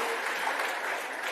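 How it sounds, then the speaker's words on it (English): Applause from an audience at a gala awards night, a brief steady wash of clapping at moderate level. "it's a round of applause for Eden, our first award winner of the nigh"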